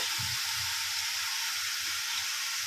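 Water poured into a pan of frying fish heads, a loud steady hiss and sizzle with soft bubbling underneath, close and continuous.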